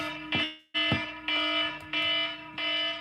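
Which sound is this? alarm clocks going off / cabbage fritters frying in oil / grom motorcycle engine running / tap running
alarm clocks going off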